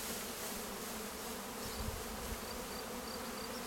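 A honeybee swarm of about 3,000 bees being shaken gives a steady, dense insect buzz that stays fairly even throughout, with a few faint high whines on top.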